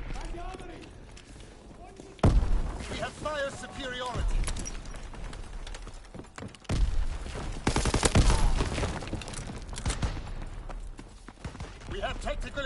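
Gunfire in hardcore team deathmatch of Call of Duty WWII multiplayer, loud bursts and volleys of shots with sharp onsets, mixed with in-game voices and a player talking throughout.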